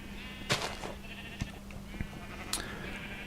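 Sheep bleating in a video game during shearing, a few short bleats and clicks spaced apart over a low steady hum, close and moderately quiet.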